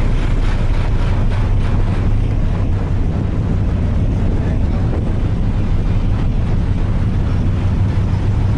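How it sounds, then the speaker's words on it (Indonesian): The quiet engine of an ASDP ferry ship produces a loud, steady low rumble with a faint airy wash over it, unchanging and continuous from start to finish. "Enggak berisik loh suara mesinnya, termasuk mesin yang tenang kapal ini."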